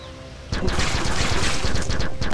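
Rapid gunfire from the video game Capsized breaks out after a quiet moment and keeps going as a dense rattling stream of shots, loud and close.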